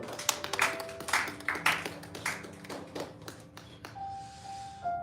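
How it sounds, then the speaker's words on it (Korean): A church congregation claps in a brief round of applause after a prayer, sharp overlapping claps that taper off into quiet room tone. "우리 하나님께 감사의 박수 드리겠습니다."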